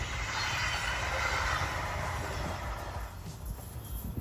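A steady rumbling roar of an Amtrak Pennsylvanian train at a New York station, with a broad hiss, easing slightly toward the end, as if heard from a platform nearby.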